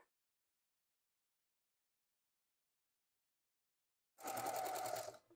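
A sewing machine stitches elastic onto pyjama fabric, a short burst of fast rhythmic whirring that starts abruptly after a long silence and runs about a second before stopping, close and clear with no talking.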